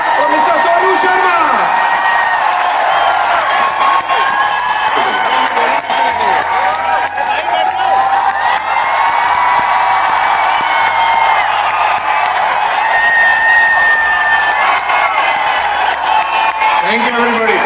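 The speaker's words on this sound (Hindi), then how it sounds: "मैं चाहूंगा एक बार जोरदार तालियां" A large crowd at an award function claps and cheers loudly and continuously, with whoops rising over the dense applause, while a voice on the stage speaks over the noise throughout.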